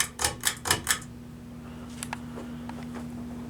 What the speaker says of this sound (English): Low speed on this fan is pretty good, but it does have a lot of a bearing noise